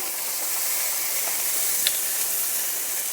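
Chopped vegetables, papaya among them, drop into a hot pan for a Bengali sabu dish and sizzle steadily with a bright, continuous hiss, a brief louder crackle partway through, and no talking.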